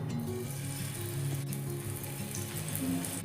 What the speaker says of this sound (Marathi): छान तवा गरम झाल्यावर हे मिश्रण पसरून घ्यायचे आहे